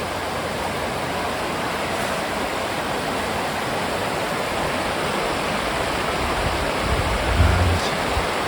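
River Dane running over rocks in the Peak District, a steady, broad rush of moving water heard close and continuous, with a slight swell in the low end near the end.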